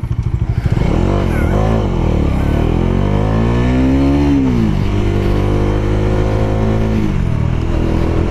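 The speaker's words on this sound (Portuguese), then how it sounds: "Cara, ela arranca demais essa moto" A Bajaj Dominar 400 motorcycle accelerates hard, its engine note climbing steadily through the revs, dipping briefly and rising again, loud and close from the rider's position with no talk.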